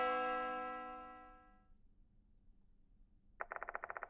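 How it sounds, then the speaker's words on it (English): A clock tower bell in the horror game Death Mark II tolls once, its long metallic ring slowly fading into a low ambient hum, then a quick run of sharp, evenly spaced ticking strikes follows near the end. "The bell stops ringing."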